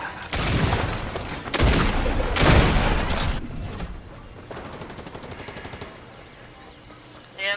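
Turret gunfire in the video game Tales From The Loop: loud bursts of rapid shots and booming blasts crowd the first few seconds, then fade into quieter rattling and a softer tail.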